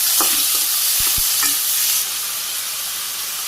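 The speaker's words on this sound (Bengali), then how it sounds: "তেলও গরম হয়ে আলু করলা একসাথে দিয়ে দিলাম সাথে একটু লবণ দিয়ে দিই নাড়াচাড়া করে দিই" Potato and bitter gourd pieces fry in hot oil, with a close, loud sizzle and a few spoon or spatula scrapes as they are stirred. The sizzle eases slightly partway through.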